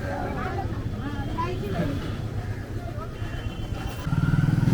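Motorcycle engines putter and buzz through a busy New Delhi street, with voices chattering around them and a louder engine idling close by near the end.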